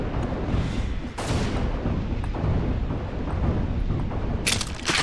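Grenade launcher blasts in the Unreal Gold shooter game, a dense run of booming explosions with sharp bright bursts near the start and end over a continuous rumble.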